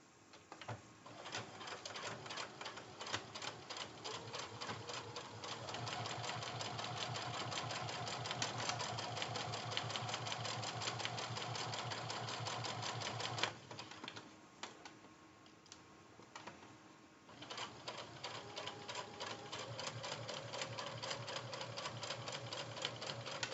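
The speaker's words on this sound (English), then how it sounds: "I am going to sew along the same line that I just basted" A sewing machine runs a steady, continuous stitch along a basted seam on a zipper pouch, set to a 2.5 stitch length. The needle hums rapidly and evenly, pauses briefly near the middle, then resumes at the same close, steady pace.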